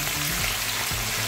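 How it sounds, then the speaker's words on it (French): Flour-coated tilapia fish fries in oil with a dense, continuous loud sizzle and crackle, steady from start to finish with a low repeating hum beneath. "je vais passer à la friture de mon tilapia"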